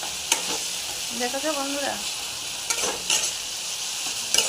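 Spice masala with melted tomatoes and turmeric sizzles steadily in a pan under stirring, with a few sharp scrapes, while a voice speaks briefly near the middle.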